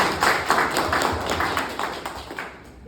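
A small indoor audience applauding briefly, with quick uneven clapping that fades out within a few seconds.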